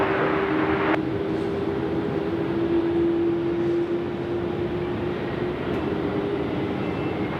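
An Air New Zealand airliner lands on runway 16 left at Sydney Airport with a continuous engine rumble and a steady whining tone, constant level, no talking.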